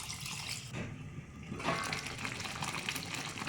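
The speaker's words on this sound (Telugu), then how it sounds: "దీనిలో కొంచెం వాటర్ అయితే పోసుకోవాలి" Water runs and splashes steadily into a pot of mutton curry close by, a continuous gushing pour that briefly softens before surging again.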